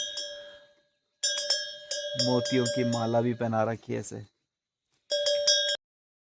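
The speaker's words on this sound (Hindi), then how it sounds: "इसकी घंटी देखिए, मुझे तो बहुत पसंद है इसकी घंटी। जो ये टन टन टन की आवाज़ आती है इनकी गले से।" A bell hanging on a farm animal's neck in a cold hill village, clear metallic rings in short bursts at the start and end, with someone talking over part of it.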